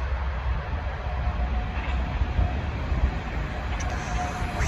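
An S-Bahn S1 commuter train bound for Oranienburg passes nearby, giving a loud, steady, full-band rumble and rail roar that lasts the whole stretch without a break.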